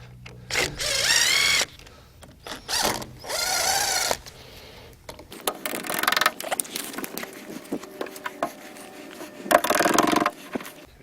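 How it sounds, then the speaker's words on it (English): Screws being backed out of a panel on a Prestige 8940, with repeated mechanical ratcheting and gear-like whirring bursts from a driver, then scraping and rubbing of parts, close and fairly loud with no talk. "At this point, you need to remove the screws"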